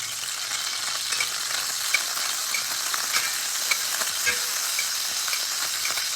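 Chicken paillard searing in a large sauté pan, a continuous close sizzle with small irregular pops and ticks throughout.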